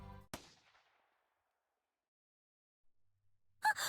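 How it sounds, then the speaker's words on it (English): A single sharp gunshot from the visual novel Steins;Gate, a sudden loud crack whose echo fades into near silence, followed by a brief faint stir. "There really was a gunshot."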